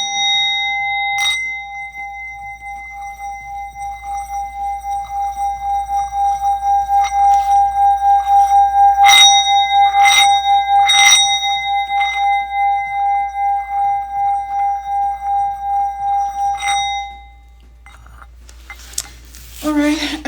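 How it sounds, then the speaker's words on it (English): A sound bowl is struck once and rings out as a long sustained metallic tone with a slow pulsing shimmer, a couple of softer strikes adding brief chimes before it fades, and soft speech follows at the end. "Let's ring the sound bowl."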